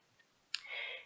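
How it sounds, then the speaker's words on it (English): A single sharp mouse click on a button in Band-in-a-Box music software, followed immediately by a steady, fairly loud hiss-like tone that holds to the end. "So I'll first remove that by clicking the Show All button."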